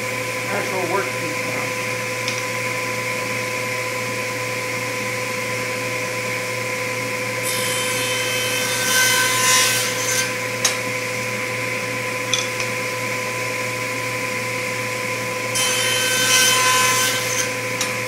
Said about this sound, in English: we're going to go ahead and make the cut on our